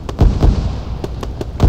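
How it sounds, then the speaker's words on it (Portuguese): Gunshots fired into the water from a boat in the military video game Arma 3, a series of loud, sharp reports at an uneven rhythm, several close together, with booming low thuds underneath. "Ele tá ali no barco dando tiro dentro da água pra tentar me acertar."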